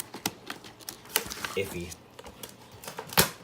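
Scissors snipping and crunching through toy packaging, irregular sharp clicks and crinkles close up, with a person speaking briefly between cuts.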